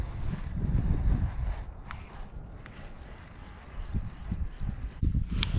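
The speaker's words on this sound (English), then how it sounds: "The wind is directly hitting me." Wind gusts across open ground during winter fishing, a steady rumbling roar buffeting close to the microphone with stronger bursts near the start and end.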